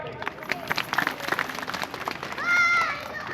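An audience at a two-day forest rights workshop breaks into clapping, the applause rising under a voice and mixed with crowd noise.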